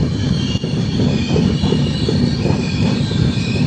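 Jabalpur–Coimbatore special express at a station, giving a continuous close rumble of wheels on rails with a sustained high squeal running through the whole passage.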